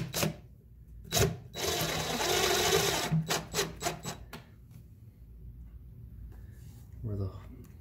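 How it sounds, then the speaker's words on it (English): A drill drives screws into a backing board on a homemade drill press station, heard as several sharp whirring bursts and a longer sustained run, close and fairly loud, separated by quiet gaps. "I'll put in some screws."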